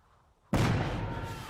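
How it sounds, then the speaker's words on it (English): A grenade explodes in a wartime audio drama about German soldiers: after a near-silent lead-in, one sudden, loud, close blast hits and its heavy rumble rolls on to the end, with no voices. "I'll throw a grenade."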